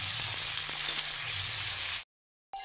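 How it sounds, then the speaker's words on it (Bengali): Broiler chicken meat fries loudly in a pan with a dense, even hiss for about two seconds, then a sudden break to silence before the sizzle returns. "এটাতে মাংসগুলো দিয়ে দিলাম"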